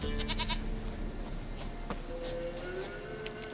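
A goat bleats in the Witcher 3 video game, the in-game animal's cries sitting among busy ambient game sound and background music, with a few short bleats near the start.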